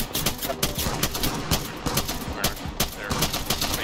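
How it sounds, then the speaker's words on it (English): Gunfire in the Apex Legends video game comes as rapid, repeated bursts of shots, loud and close, rattling steadily throughout with no pause. "They're probably shooting at us."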